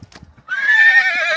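A horse in Sonamarg, Kashmir, gives a loud, drawn-out whinny with a wavering, sliding pitch that begins after a few soft hoof clops and lasts about a second, close to the listener.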